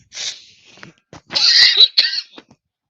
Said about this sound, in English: Still some of that COVID cough left over.